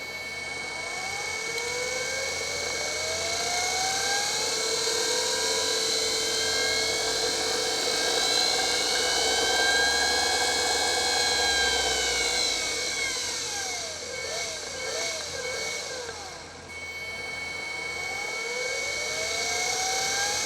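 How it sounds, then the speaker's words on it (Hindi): A DC motor driven by a 48-volt PWM speed controller runs continuously at up to 24 volts. It gives a loud, steady electric whine with high tones that rise and fall as the speed shifts, and there is no talking. "अभी हम मोटर को ऑपरेट करेंगे, 24 वोल्ट तक ले जाएंगे। आपको मोटर की आवाज़ सुनाते हैं"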